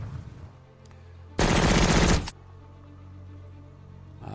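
Sustained burst of automatic gunfire in the tactical war game Lock and Load Tactical, a dense roughly one-second volley standing out loudly over a low background hum.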